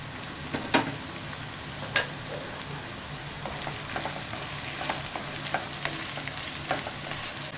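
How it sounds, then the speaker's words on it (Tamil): Vegetables, including beans, sizzle and crackle steadily in a hot pan for paneer fried rice, with a few sharp clinks of a utensil stirring. "இது ரெண்டும் ஒரு வதங்கட்டும்."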